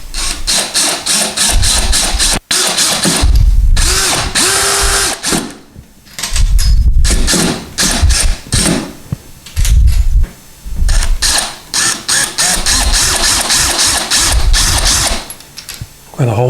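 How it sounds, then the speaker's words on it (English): A powered screwdriver or drill drives screws in to mount a towel bar, loud close bursts of whirring with brief pauses between runs, plus clicks and handling noises. "And now we'll screw these in."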